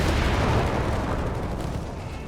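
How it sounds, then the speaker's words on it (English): Mines blowing up amid a Company of Heroes 3 battle: a dense, continuous wall of loud rumbling blasts and crackling gunfire with no clear gaps, fading slightly toward the end. "Mines exploding, men getting mauled"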